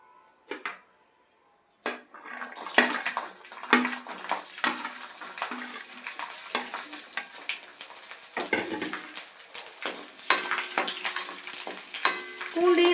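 Garlic sautéing in hot oil for spicy idli kara chutney, a steady close sizzle with stirring scrapes and clinks of a utensil against the pan, starting after a brief quiet gap.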